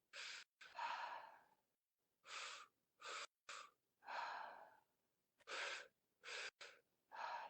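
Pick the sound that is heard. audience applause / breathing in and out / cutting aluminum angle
breathing in and out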